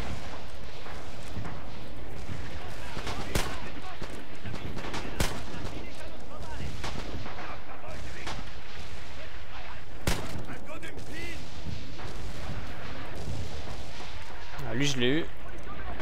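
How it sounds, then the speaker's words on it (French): Gunfire and suppressing fire in the WWII shooter game Red Orchestra 2: repeated sharp rifle and machine-gun cracks and distant booms scattered throughout, loud over a busy battlefield background, with a player's voice briefly exclaiming near the end. "là je me prends le tir de suppression"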